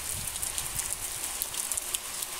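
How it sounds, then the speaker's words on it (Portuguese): Heavy rain pours down outdoors, a steady dense hiss of drops drumming on surfaces, continuous and fairly close with no voices. "Muita chuva, pessoal."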